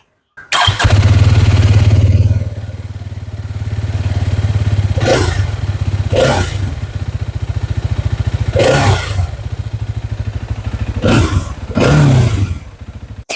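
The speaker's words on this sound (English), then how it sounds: "So let's listen to the exhaust note." A Hero Xtreme 250R motorcycle engine starts up and idles with a steady thumping exhaust, then revs sharply several times in loud, close roaring bursts.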